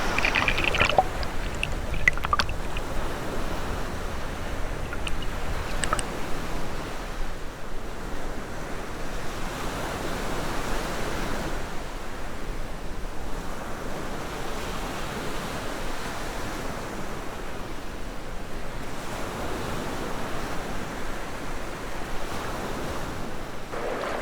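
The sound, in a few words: river water flowing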